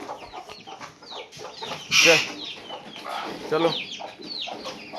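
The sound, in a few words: rooster clucking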